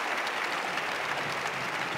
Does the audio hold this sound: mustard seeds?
no